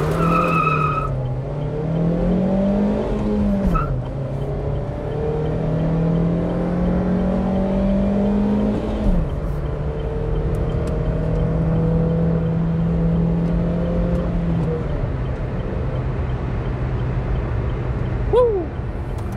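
A car pulls away hard in repeated acceleration runs, engine note climbing and falling through gears for nearly twenty seconds, loud and close, with a brief high squeal near the end.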